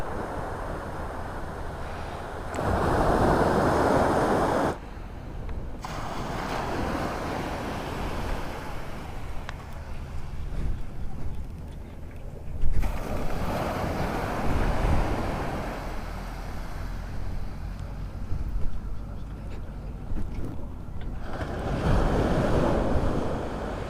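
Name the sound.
sea waves at Lingayen Gulf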